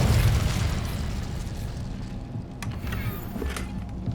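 An Incendio fire spell cast in the video game Hogwarts Legacy erupts as a loud, booming burst at the start, then rumbles and fades into a quieter crackle.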